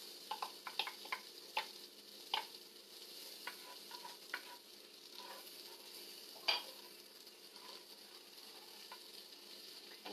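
A quarter cup of onions sizzles quietly in a pan, a soft continuous hiss dotted with small clicks and pops, close but faint and without talk.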